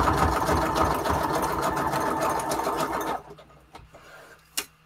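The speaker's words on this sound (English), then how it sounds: "let's sew this down the middle" A sewing machine stitches down the middle of a layered junk journal embellishment, a steady close mechanical whir for about three seconds before stopping, leaving a few faint clicks.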